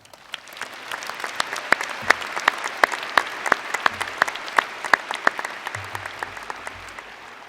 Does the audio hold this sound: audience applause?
yes